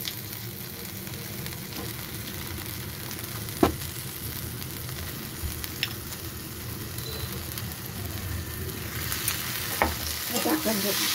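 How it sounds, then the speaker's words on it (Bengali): Tarka dal being stir-fried with spice masala in a pan gives a steady, close sizzle with frying crackle, a few sharp clicks from the stirring spoon, and a busier burst of spatter near the end. "ডালটা মশলার সাথে ভালো করে মিশিয়ে কষিয়ে নেব।"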